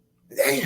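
Someone imitates a loud, uncovered sneeze, one short explosive burst right up close that ends on a muttered word.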